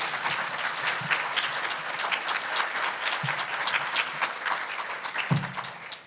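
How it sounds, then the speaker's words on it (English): An audience at a conference session on chemical dependency gives steady, dense applause that holds at an even level for six seconds, with a few louder claps near the mic and no talking. "He deserves a big round of applause."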